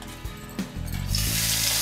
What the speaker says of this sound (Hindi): आइए देखिए, तेल गर्म हो चुका है, इसमें हम प्याज डालेंगे